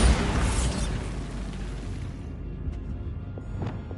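A Bombarda spell blast in Hogwarts Legacy on PS5 erupts as a loud, close explosion with a broad roaring burst that decays over a couple of seconds into faint debris and crackles.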